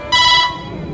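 A brief electronic phone ring, a bright tonal burst that cuts off quickly and leaves a faint room hum.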